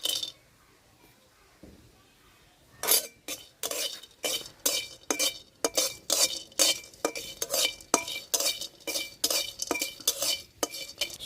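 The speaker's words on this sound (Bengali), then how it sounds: "কড়াইটা গরম হয়ে গেছে, এখন শুকনা খোলায় এলাচ দারচিনিটা একটু ভাজা নেব।" Cardamom and cinnamon dry-roast in a hot wok, heard as a rapid run of sharp metallic scrapes and clinks from a spatula stirring the spices, loud and close after a quiet opening, with faint talk in the background.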